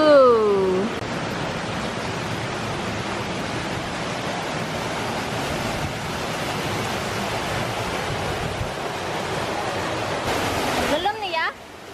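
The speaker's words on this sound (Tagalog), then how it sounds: "Uy, taas na naman itong waterfalls, uy." Dodiongan waterfall in the Philippines roars in a loud, steady wash of rushing water filling the whole scene, with voices briefly heard over it at the start and end.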